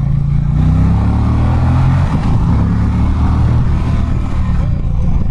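An Indian Challenger motorcycle engine accelerating on a group ride, a loud, close, throaty drone rising steadily with a rush of wind and road noise around it.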